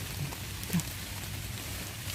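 Steady rain falling outdoors during mushroom picking, a soft continuous patter with faint scattered knocks and no talking.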